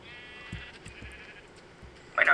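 A few soft sheep bleats in the video game Minecraft come through faintly over quiet background noise, ending with a brief louder burst of sound.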